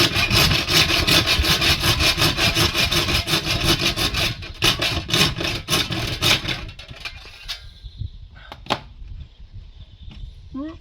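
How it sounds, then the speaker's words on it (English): A handsaw cuts through a composite laminated worktop in fast, rhythmic back-and-forth strokes that slow and break off near the end, leaving a few scattered scrapes. "I'm using an handsaw because it's probably going to be wrecked"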